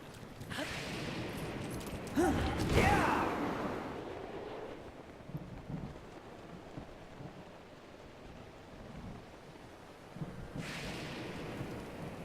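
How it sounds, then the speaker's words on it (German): A thunderclap cracks and rumbles after a lightning strike near water during a storm in Zelda Breath of the Wild, loud and close, then fades into steady rain-like wash with a second softer surge near the end. "da hat gerade der Blitz eingeschlagen"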